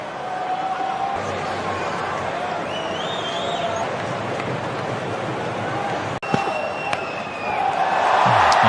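Spectators at a one-day international cricket match cheer a boundary. A broad crowd roar runs throughout and swells louder at the end, with commentary faintly audible underneath.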